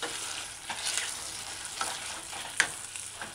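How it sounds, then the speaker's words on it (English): Vegetables in oyster sauce stir-fried in a pan on a stove at medium-high heat, a continuous close sizzle with repeated scraping and tossing strokes of the spatula, moderately quiet, no talking. "once you stir it in and all the vegetables coated with the sauce"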